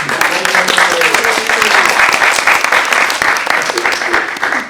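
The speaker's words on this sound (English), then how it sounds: "applause for Katie." Graduation ceremony audience at a speaker school breaks into loud, sustained applause, dense clapping filling the room steadily with a voice faintly audible underneath.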